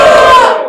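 A battle rap audience cheers and shouts in a short, loud burst of crowd noise that fades quickly.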